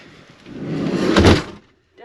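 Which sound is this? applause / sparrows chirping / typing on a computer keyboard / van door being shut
van door being shut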